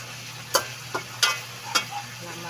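Garlic butter pork fries in a pan with a steady, quiet sizzle, broken by a few soft scraping and stirring clinks spaced irregularly.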